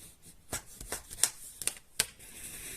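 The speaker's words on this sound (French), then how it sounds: "maintenant je vais marquer le pli." A sheet of scrapbooking paper is creased along a fold in several short, crisp rubbing swipes, faint and close, with no talking over them.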